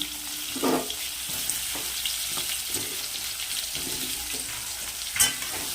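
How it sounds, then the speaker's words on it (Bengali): Potatoes go into a pan of frying cumin, and a steady close sizzle follows, with a few louder bumps and scrapes as they are stirred and settle in the hot oil. "এবার এর মধ্যে আলুগুলো দিয়ে দেবো মাছের যে আলুগুলো ছিল সেই আলুগুলো"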